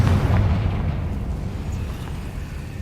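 A Confringo fire-blasting spell explodes in the Hogwarts Legacy video game, a loud booming blast at the start that rumbles and decays over a few seconds with no talking.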